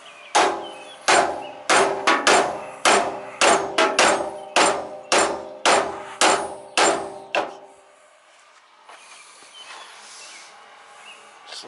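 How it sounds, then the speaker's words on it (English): Steady, forceful blows from a ball peen hammer land on Craftsman lawn tractor parts, about a dozen loud, ringing metallic hits close by. They stop partway through, leaving a quiet, faintly hissing stretch with no voices. "Maybe I need a bigger ball peen hammer."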